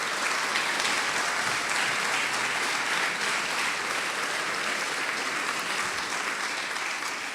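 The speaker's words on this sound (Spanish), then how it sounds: "Dele un aplauso al Salvador." Sustained congregation applause in a Spanish-speaking church, a dense, even wash of many hands clapping at once, steady and loud throughout with no talk over it.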